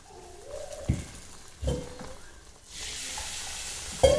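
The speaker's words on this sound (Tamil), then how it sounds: "இதை நம்ம அப்படியே குழம்புல ஊற்றிடலாம்." Hot tempering poured into a simmering country chicken curry gives a sudden sizzling hiss that swells and holds near the close, after quieter stirring and clinks.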